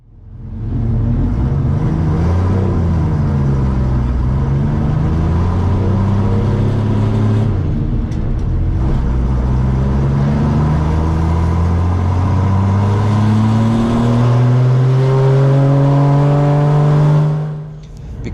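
An HQ Holden race car pulls away slowly off the grid and accelerates through the gears, its engine rising in pitch repeatedly with gear changes, loud and close from start to end.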